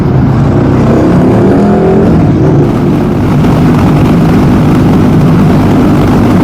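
Heavy wind buffeting roars over the microphone while riding a naked motorcycle on a windy day, a loud and constant low rush covering any engine sound throughout.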